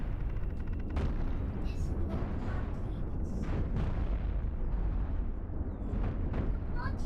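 Cannons and nukes firing in the space combat game Cosmoteer: a dense, continuous barrage of booming blasts and sharp bursts, loud and steady throughout, with scattered stronger impacts.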